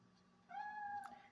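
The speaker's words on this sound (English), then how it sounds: "That damn cat needs to quit." A cat meows once in the horror game Fatal Frame III, a single drawn-out, fairly faint cry about half a second long with a short sharp sound at its end.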